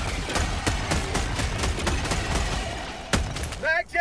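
Rapid gunfire from the video game Helldivers 2, with dense bursts of shots and impacts over about four seconds, one sharp louder crack near the end, followed by a brief electronic warble.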